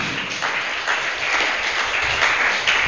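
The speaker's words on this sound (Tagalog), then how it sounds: "Palakpak sa Panginoon." Sustained applause from a church congregation during a worship service, a dense, steady clapping that holds at an even level throughout without a break.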